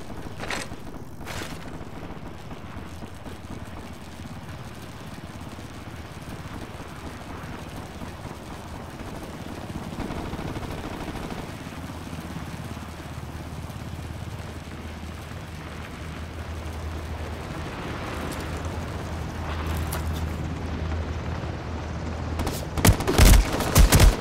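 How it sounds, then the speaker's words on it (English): Gunfire crackling around the player in a video game, a dense low rumble of distant shots with sharper, louder bursts clustering near the end. "I'm hearing shots right around me."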